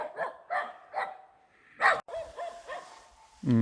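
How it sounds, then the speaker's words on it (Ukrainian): A small dog barks in a string of sharp, close barks in an abandoned rural hamlet, with a louder yelp in the middle and a quiet outdoor stillness between barks. "Песик гавкає."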